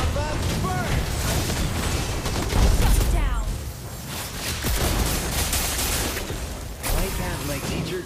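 Repeated fiery explosions from the Lava Burst skill of the hero Valir in the mobile game Mobile Legends, a dense run of blasts and booms mixed with game effects, steady and fairly loud across the whole stretch.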